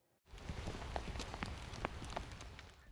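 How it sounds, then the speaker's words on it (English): Steady rain falls on a somber day in Port Moody, a dense hiss with scattered drop taps, fairly faint and continuous with no voices. "Rain falls on a somber day in Port Moody"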